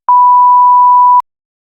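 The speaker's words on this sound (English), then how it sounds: "We'll put a little beep, and you'll hear that right about then." A single steady electronic beep tone, clean and loud, holding for about a second before cutting off abruptly, alone with no other sound.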